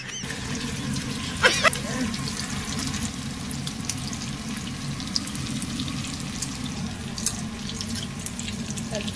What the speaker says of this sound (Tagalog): Patutustahin muna natin yan ng bonggang-bongga.